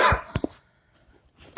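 A couple of short, sharp coughs near the start, then near silence, ending with another abrupt burst, produced on instruction during a physical examination.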